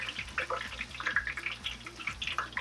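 Hot oil dripping and trickling off a freshly fried tonkatsu pork cutlet as it drains, close and steady with small crackly drops over a low bubbling bed.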